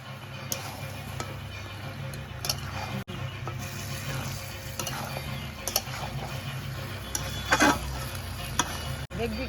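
Mutton with papaya, capsicum, green chili and Kashmiri chili powder is sautéed and stirred in a pan, giving a low steady sizzle with scattered clicks and scrapes of a spoon against the pot.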